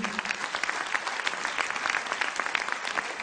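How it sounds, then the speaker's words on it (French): Steady, dense audience applause at the 2013 Jean Rougié cooking competition in Sarlat, with many hands clapping evenly throughout. "Pierre-Jean Pébert, que vous pouvez applaudir aussi"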